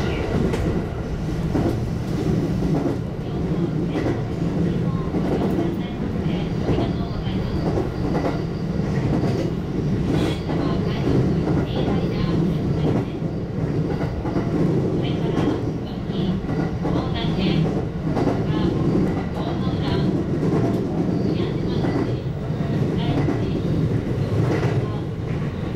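A JR 227 series train running on the Sanyo Line, heard as a steady, loud rumble of wheels and motor with faint rhythmic clatter throughout, no pauses.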